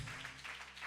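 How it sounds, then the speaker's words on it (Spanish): A church congregation at a Sunday school service claps for God, a dense, steady wash of applause filling the short stretch, with a low hum of music or voices underneath. "dale un aplauso a Dios."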